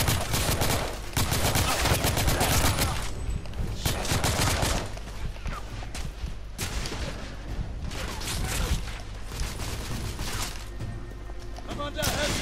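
Gunfire fills a battle in the video game The Order: 1886, with dense bursts of rapid shots and heavy fusillades in loud waves, broken by brief quieter gaps, while voices shout over the combat.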